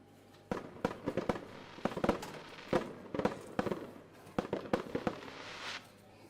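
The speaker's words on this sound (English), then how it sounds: "I heard fireworks." Fireworks pop and crackle in a rapid irregular series of sharp bursts, some loud and close, others fainter, over a steady background hum, without any talk.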